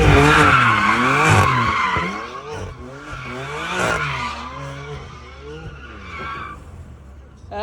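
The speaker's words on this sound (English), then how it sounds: "He did a donut around my car." Tires squeal and skid in repeated sweeping waves as a car whips a donut close by, the screech rising and falling with each pass over an engine roar and fading toward the end.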